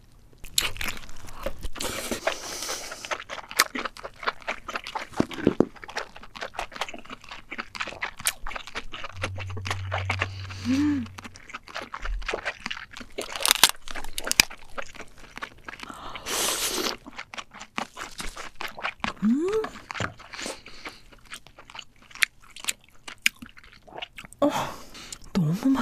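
King crab is eaten up close, with repeated loud crunches of shell, wet chewing and squishy bites in an uneven rhythm throughout, with occasional brief sounds of a voice.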